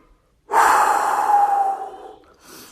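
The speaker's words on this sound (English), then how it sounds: "Deep, deep body breaths." A single long, deep breath drawn close to the mic during singing breath-support practice, loud and airy, tapering off, then a softer second breath begins.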